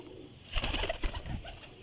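Pigeons coo close by in a short burst of soft throaty calls, two or three low rolling coos in quick succession.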